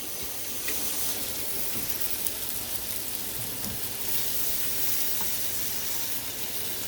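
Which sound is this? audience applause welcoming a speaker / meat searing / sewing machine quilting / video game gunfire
meat searing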